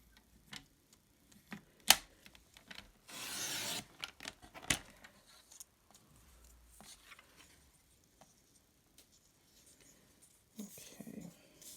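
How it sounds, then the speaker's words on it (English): Gold foil sheet cut by hand for a St. Patrick's Day card: scattered faint rasps and scrapes, with one louder burst of rubbing mid-way, in an otherwise quiet room. "We are going to cut the gold foil sheet to 1/2 inch."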